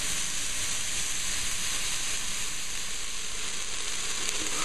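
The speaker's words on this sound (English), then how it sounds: "we're going to put in some our onions and let them saute up a bit" Onions sautéing in a stew pot after stewing beef has been browned, giving a steady, dense sizzle and hiss that runs unbroken throughout.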